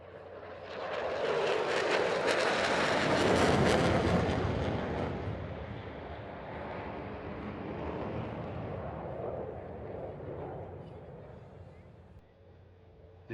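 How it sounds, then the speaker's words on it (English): An F-35C fighter jet makes a low pass at 400 knots during a military flyover over Washington, DC, its loud roaring engine swelling, peaking and then fading over several seconds. "brings the F-35C in for a simulated carrier brake at 400 knots"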